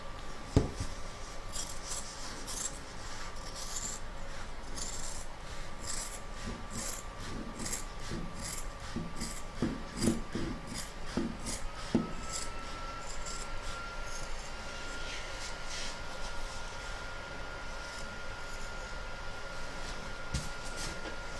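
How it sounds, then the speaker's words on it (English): Fabric trimmed with scissors around a hooped embroidered mandala notebook cover, a steady run of close, quiet snips and rustling cuts with no talking. "we're now going to trim up all the way around the outside"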